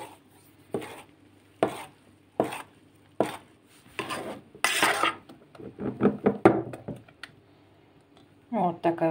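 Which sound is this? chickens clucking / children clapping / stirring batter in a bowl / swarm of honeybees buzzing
stirring batter in a bowl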